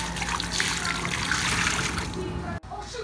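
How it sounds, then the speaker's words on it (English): Dirty water from soaking a weave is poured down a drain, a continuous splashing trickle that ends abruptly with a brief clunk. "I kind of wanted to show you guys me pouring it on the drain"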